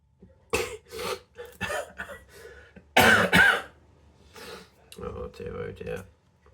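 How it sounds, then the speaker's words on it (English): Croaky cough from a woman doing diamond painting, with several rough, throaty coughs and throat clearing in bursts, the loudest pair midway, mixed with quiet small clicks and rustling nearby. "I have actually started with this croaky cough"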